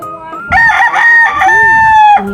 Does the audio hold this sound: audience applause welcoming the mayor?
no